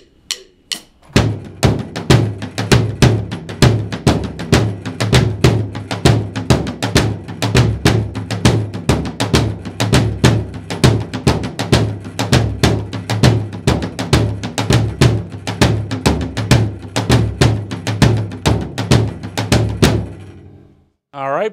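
A faster floor tom and bass drum beat on a drum kit hammers along in dense, steady, close strikes for about twenty seconds, loud and driving, with no talking over it.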